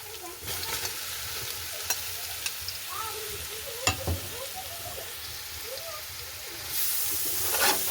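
Grated carrot is stir-fried in a pan with onion already cooking, a quiet continuous sizzle broken by scattered scraping and tapping stirs, close and alone.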